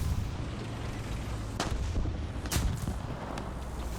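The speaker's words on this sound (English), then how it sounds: "But you can see we're just under constant enemy fire." Enemy tank fire rolls in the War Thunder game as heavy cannon booms and gunshot cracks over a constant low rumble. Two sharper blasts stand out partway through, and no one talks over the din.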